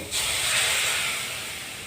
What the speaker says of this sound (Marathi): मी आता तुपाची फोडणी घालत आहे